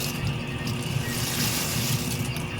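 Water running into a kitchen sink during washing up, a constant close rushing stream with slight splashing variations and no talking.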